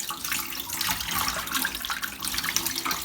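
Tap water runs steadily into a sink while a catfish is cleaned, a continuous close hiss and splash with no talk over it.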